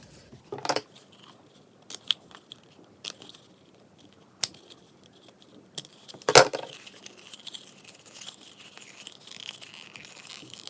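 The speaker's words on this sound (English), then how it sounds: "you will have to snip it again, a little bit like these ones that you've done" Scissors snip a cardboard tube in a quiet room, a series of sparse, crisp close-up cuts and crunches scattered irregularly with brief pauses between them.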